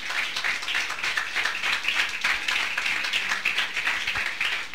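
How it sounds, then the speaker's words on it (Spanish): Church congregation clapping as an offering of applause, a fairly close, rhythmic patter of many hands with regular pulses, steady and moderately loud with little else heard. "Denle una ofrenda de aplauso al Señor."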